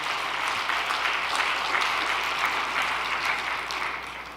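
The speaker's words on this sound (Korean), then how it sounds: "다시 한번 격려의 박수를 부탁드립니다" A congregation applauds with steady clapping throughout for a married couple at a church all-night prayer service, fading slightly toward the end.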